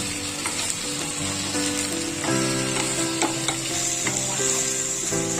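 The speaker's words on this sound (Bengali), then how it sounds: "আদা রসুনের পেস্টটা আমি খুব ভালোভাবে কষিয়ে নেব।" Ginger garlic paste fries in a pan, giving a steady crackling sizzle under the occasional scrape and clink of a spoon stirring, with no talking.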